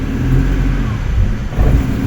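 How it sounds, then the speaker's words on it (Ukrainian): A car with a faulty throttle body and low fuel pressure is revved as the gas pedal is pressed, giving a loud, close engine roar with a brief dip partway through. "Нажимаємо на педаль газа,"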